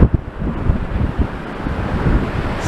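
Cold wind buffets the microphone on Blackpool promenade at high tide, a loud, uneven low rumble with gusty bursts, faint sea surf beneath and no voices.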